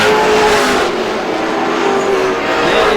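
Race cars roar loudly down the front stretch into turns 1 and 2 at Star Speedway during a 100-lap event, a dense, sustained engine drone with no break across the clip.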